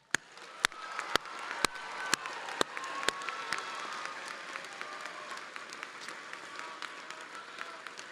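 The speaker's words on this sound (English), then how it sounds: "let's give our graduates in the class of 2024 one more round of applause" A graduation audience at a university commencement applauds the class of 2024, a broad wash of clapping from a large crowd heard from a distance, steady then slowly fading, with several sharp, loud close claps at the start.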